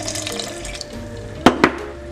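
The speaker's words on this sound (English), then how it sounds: "So I'll pour my water in," Room-temperature filtered water runs into a bowl for a sourdough loaf, a soft steady trickle with a couple of brief louder splashes near the end.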